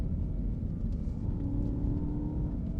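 Land Rover Defender Octa with a V8 engine driving off-road near a water splash, held around 4,000 RPM in third gear, giving a steady, loud, deep engine rumble close by without a break.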